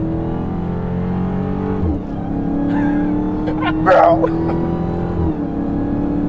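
Engine of a 2022 Dodge Charger SRT Hellcat Jailbreak with an eight-speed ZF automatic, droning under load with quick rev drops at gear shifts and a short burst around the middle, with a brief spoken word.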